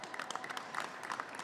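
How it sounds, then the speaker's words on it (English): A live audience breaks into a round of applause at a political press event, with dense, steady clapping from a crowd throughout the short stretch and no talk over it. "I've got to have a round of applause for just that"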